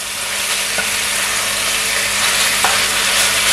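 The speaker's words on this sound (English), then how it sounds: "just allow it to sear" Pork for a Jamaican-style sweet and sour brown stew sears in a pot with a loud, steady, dense sizzle throughout, broken by a couple of faint clicks.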